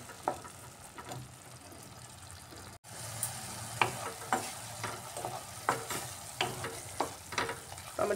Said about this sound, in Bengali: টমেটোটা দিয়ে আমি একটু সময় কষিয়ে নিচ্ছি। খুব ভালোভাবে কষাতে হবে।